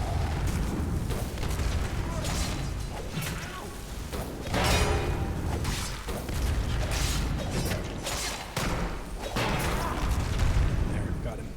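Explosions and thuds in the video game Skyrim recur as booming hits amid combat clatter and mechanisms, with a person talking over the game sound.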